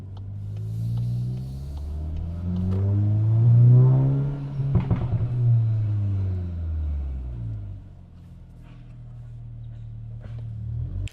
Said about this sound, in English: I think the intake makes that turbo sound way louder